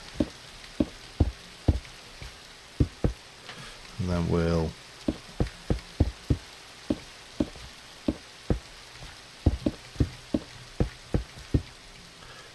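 Rain falls in the Minecraft Tektopia game as a soft, steady patter in the background, under a run of regular tapping clicks and a brief voice.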